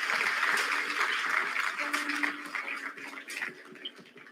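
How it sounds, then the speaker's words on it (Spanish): Applause for special observers at a Colombian political party launch event, a dense crowd wash that starts loud and slowly thins and fades, with faint voices mixed in. "Un fuerte aplauso para ellos."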